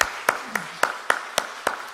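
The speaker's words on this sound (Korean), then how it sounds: "축복하는 축복의 박수로 우리 부모님께 박수 드리도록 하겠습니다" A church congregation claps to honour parents during a Sunday service. The clapping comes as sharp, evenly spaced beats in a steady unison rhythm, about three or four per second, over a quiet room.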